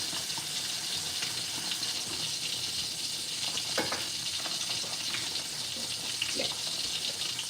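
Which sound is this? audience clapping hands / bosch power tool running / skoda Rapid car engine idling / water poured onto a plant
water poured onto a plant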